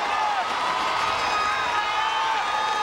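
High school football fans from the North Georgia Mountains cheering in the stands for the Trion Bulldogs after they score, a steady loud crowd roar with scattered shouts, heard through a muffled, low-fidelity broadcast.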